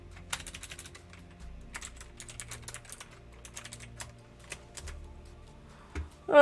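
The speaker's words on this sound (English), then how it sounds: "Can you hear my keyboard?" Typing on a computer keyboard during a programming session, scattered light key clicks and taps at an uneven pace, fairly quiet and close, with a louder knock at the end.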